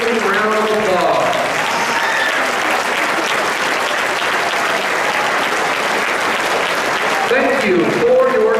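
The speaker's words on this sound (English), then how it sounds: "Please give everyone a standing round of applause." A basketball gym crowd stands and applauds at a high school varsity boys game, loud sustained clapping filling the whole stretch, with a voice over the public address heard briefly at the start and end.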